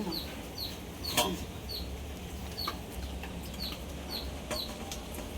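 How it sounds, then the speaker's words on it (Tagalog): A small chick left behind by its mother peeps repeatedly outdoors, short high chirps at a fairly regular rhythm, moderately close, over a steady background of other fowl and ambient noise with a brief louder thump near the start. "Kawawa yung sisiw na iwan ng nanay."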